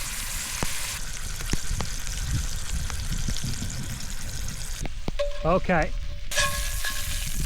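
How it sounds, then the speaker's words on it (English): Butter sizzles on a seared steak in a pan over a campfire, a steady close frying crackle, briefly interrupted midway before the sizzle resumes; a voice speaks briefly. "Now I'm going to throw a little bit of butter in there."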